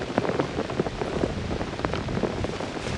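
Steady rain falling outdoors during early trapping season, a constant diffuse patter with scattered drop hits, fairly close and unbroken, with no voices.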